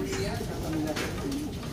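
Pigeons coo softly in short repeated calls, with people talking over them throughout.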